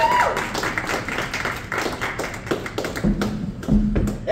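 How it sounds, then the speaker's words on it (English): Audience applause at a live show, a dense patter of many hands clapping close by with scattered thumps, steady through the moment without talk over it. "Can we get another round of applause?"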